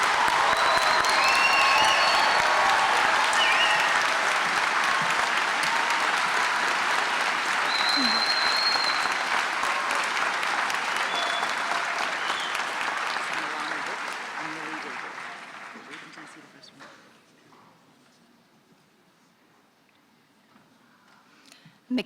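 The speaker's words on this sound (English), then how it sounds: "let's have a round of applause for our graduates who have crossed the stage" A large audience at a spring university convocation ceremony applauds its graduates, with loud, sustained clapping and a few whoops that hold steady for about fifteen seconds before tapering off into near quiet.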